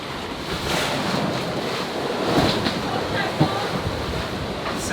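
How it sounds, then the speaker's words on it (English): Big ocean waves surge and break against a sailboat lying broadside to them mid-ocean, a continuous rushing wash with heavy wind buffeting the microphone. "Some big waves, we just broadside onto them."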